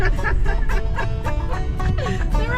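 Geese on a small roadside farm give a quick series of repeated, close honking calls, about eight nasal cries in a little over two seconds over a low background rumble.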